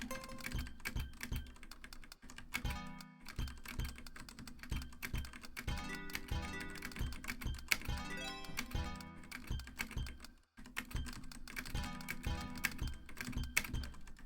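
Rapid keyboard typing while playing the Tetris video game, a dense run of close, quiet key clicks with brief pauses and one short full stop midway.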